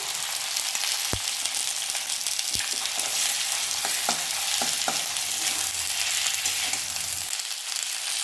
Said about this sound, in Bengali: আদা জিরে সমেত আনাজটা ভালোভাবে ভাজা হয়ে গেছে